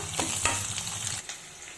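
Curry leaves, chopped onions and green chillies frying in hot oil for a brinjal and chana dal curry, a steady close sizzle with a few stirring scrapes before it drops off near the end.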